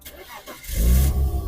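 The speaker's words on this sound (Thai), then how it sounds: "เดี๋ยวเรามาฟังเสียงสตาร์ทเครื่องยนต์กันนะครับ" A BMW E46 323i car engine cranks briefly, then catches and settles into a loud, steady low rumble close by.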